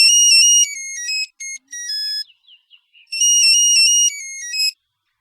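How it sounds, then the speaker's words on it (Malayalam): A phone ringtone plays clearly and close, a bright electronic melody of quick tones that runs for about two seconds, pauses briefly with faint notes, then repeats alone with no talk over it. "ഫോൺ."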